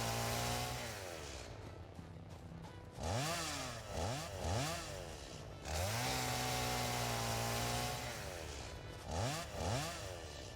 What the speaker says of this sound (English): Chainsaw! Chainsaw buffet!